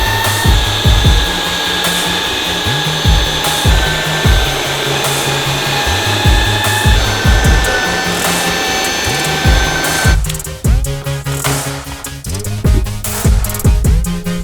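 A NEAKASA PowerScrub II cordless vacuum runs on dry carpet with a loud steady whine, its pitch bumping and thudding rhythmically as it is pushed back and forth.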